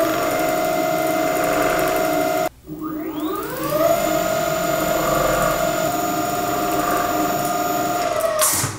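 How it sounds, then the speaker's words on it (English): Varla Eagle One V2.0 electric scooter motor winding up under full throttle on about half charge, a loud steady whine that drops out briefly and then climbs in pitch as it accelerates, holding high and close. "So let's see what happens if we give it some throttle."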